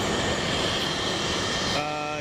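A Boeing KC-46 tanker aircraft takes off at Boeing Field with a loud, steady broadband engine roar that shifts to a thinner, tonal whine near the end.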